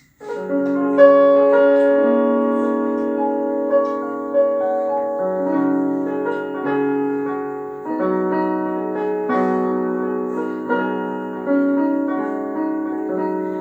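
Piano chords ring out one after another at an unhurried pace, each struck chord sustaining and fading before the next, with no talking.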